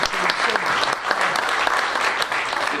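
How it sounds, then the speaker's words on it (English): An audience at a community meeting claps for the council president in a dense, continuous burst of applause that stays loud and even from start to finish. "Can we give him a round of applause?"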